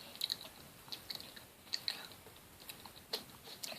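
Someone eats a cake with chocolate balls inside, producing faint, close, irregular moist chewing and soft crunchy bites scattered through a quiet background.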